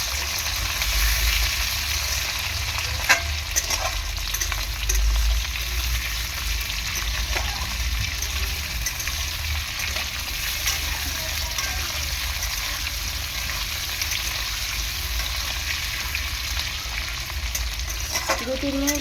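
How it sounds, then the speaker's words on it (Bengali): Potatoes frying in a pan as the first step of a small-fish curry with green banana, a steady loud sizzle throughout with occasional stirring scrapes and no speech. "দু 3 মিনিট আলুটাকে ভালো করে ভেজে নেব"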